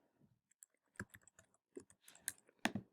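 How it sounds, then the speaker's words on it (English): Fingers typing on a computer keyboard, a quick uneven run of light key clicks with short clusters and pauses, close but quiet, no voices. "and then I'm going to type"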